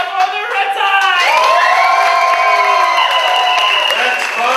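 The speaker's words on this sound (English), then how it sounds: "Please applaud now for the red side." Audience at a Comedy Sportz improv show applauds for the red team, a loud continuous wash of clapping mixed with cheering and shouting voices throughout.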